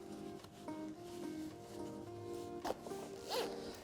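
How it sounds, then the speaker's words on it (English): A fabric zipper runs along the frame of a NUVO twin pram as the bassinet cover is closed on, giving short, quiet scraping pulls with small pauses between them. "look for your zipper and zipper head, roll it over the frame"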